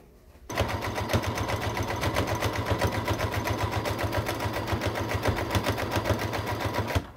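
A sewing machine stitching a Christmas stocking, starting abruptly and running at a fast, even rhythm for several seconds before stopping, loud and close with no talk.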